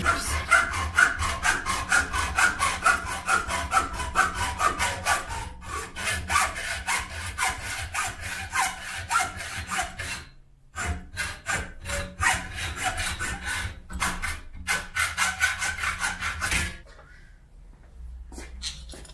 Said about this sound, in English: I feel like I'm in a hacksaw mood